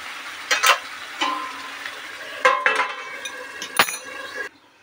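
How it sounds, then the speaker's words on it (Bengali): Beef chaap frying in oil is stirred in a pot, with a few separate bursts of scraping and clinking over a steady soft sizzle before the sound cuts off abruptly. "আবারও বেশ কিছুক্ষণ হয়ে গেলে আবার খুলে আরও একবার নেড়ে দেবো।"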